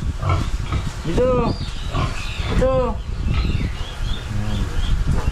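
A pig grunts and squeals up close in short bursts, with some background voices around it.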